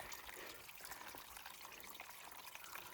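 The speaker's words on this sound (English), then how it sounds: "Cute little stream here." A small, cold mountain stream trickles steadily along a hiking trail, a soft, continuous watery babble heard close by with no voices.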